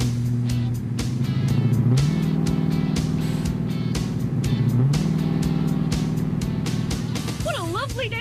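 A Ford Galaxie wagon hums steadily along on a test drive, its engine droning loud and close throughout, with a voice talking over it near the end.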